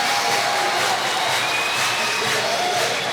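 Large crowd of over 7,700 at a minor-league baseball game between Tulsa and Wichita, on its feet with a steady, loud roar of cheering and applause throughout, with stray shouts rising above the wash of noise.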